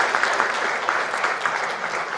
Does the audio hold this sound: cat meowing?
no